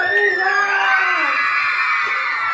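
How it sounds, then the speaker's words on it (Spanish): A crowd of children at a primary and preschool fun event shout and scream loudly together to cheer a girl who won a prize game, a sustained, dense roar of high voices that lasts throughout. "¡Un grito fuerte a la niña!"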